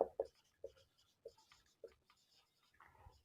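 Pen strokes on paper while working a maths problem, a few short scratchy marks spaced irregularly, close and quiet, with no voice.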